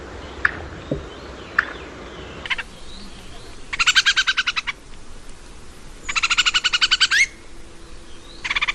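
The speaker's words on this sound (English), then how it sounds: "The white-whiskered laughing thrush is the member of the Timali family, found at the highest altitudes in Taiwan." White-whiskered laughing thrush calling in the high mountain forest of Alishan, Taiwan: a few sharp chirps, then two bursts of rapid, rhythmic, repeated notes, with a third beginning, fairly near and clear over a quiet background.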